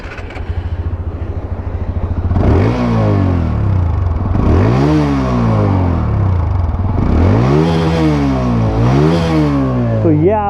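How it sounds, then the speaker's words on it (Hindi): A TVS Apache 160 2V motorcycle sits idling in gear, then its exhaust is blipped through four sharp revs that rise and fall in quick succession, loud and close, ending with a brief engine sputter. "तो ये आपकी है अपाचे की एग्जॉस्ट साउंड।"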